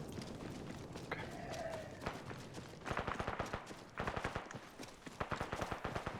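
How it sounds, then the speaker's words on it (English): Enemy gunfire in the military shooter game ArmA 3, a rapid run of sharp cracks and shots in bursts, fairly close, over a low rumbling background. "Yeah, they're shooting at us."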